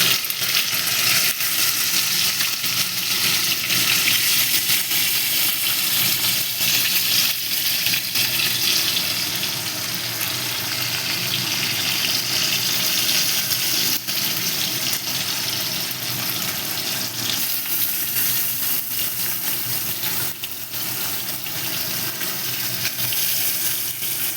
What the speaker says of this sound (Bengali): তেলটা গরম হয়ে গেছে এবার এখান থেকে আমি মাছগুলো একটা করে দিয়ে দেবো আর সেখানে মাছগুলো ভেজে দেবো